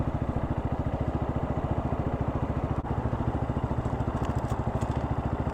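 A Honda Hawk X 250 motorcycle runs at a steady, loud idle with a fast, even exhaust pulse throughout and a brief dropout near the middle; crisp backfire pops are not clearly separable.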